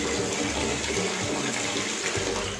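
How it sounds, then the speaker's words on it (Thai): Water from an opened tap rushes strongly through a pipe patched with Flex tape after a burst, a loud, steady, close hiss and gush that continues without a break. "ตอนนี้สามารถเปิดน้ำได้ปกติแล้ว"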